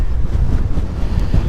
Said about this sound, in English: Far too windy